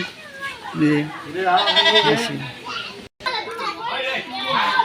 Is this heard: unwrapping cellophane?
no